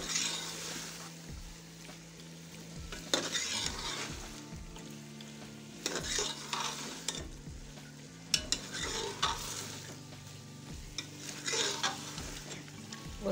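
Ingredients for Afghani tendiayan ghost frying in a pan while being stirred, a steady sizzle punctuated by repeated spoon scrapes and clanks against the metal, fairly close and with no voices.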